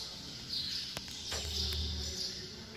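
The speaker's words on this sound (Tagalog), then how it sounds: "Narinig ko lang mga huni ng ibon." Faint, high bird chirps scattered over a soft outdoor ambience at a quiet parish church in Gasan, Marinduque, with occasional low rumble and small knocks.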